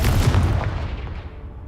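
Confringo fire spell explosion in Hogwarts Legacy on PS5: a loud, full-bodied blast with a heavy low rumble that hits at once and slowly decays over under two seconds, with no talking.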